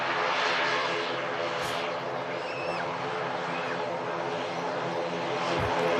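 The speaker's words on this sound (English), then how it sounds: "Miss ATR in from Newquay." An ATR turboprop airliner arriving from Newquay drones steadily at moderate distance, with propeller and engine hum throughout and a slight pitch shift.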